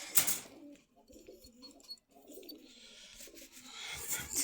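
Pigeons coo softly at the Meradia bazaar in Khilgaon, Dhaka, low murmuring calls drifting through a short stretch with faint background bustle.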